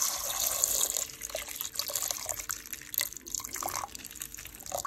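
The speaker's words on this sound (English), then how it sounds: "So to this, we are going to add 2 cups of water." Water poured steadily into a pot for porridge, a continuous splashing, trickling flow close by for the whole stretch, with no talking.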